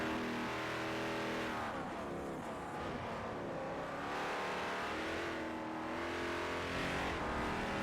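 LMPC race car with an LS3 engine in Forza Motorsport 4, a steady, loud engine drone with rising and falling revs as the car accelerates and shifts, running continuously without pause.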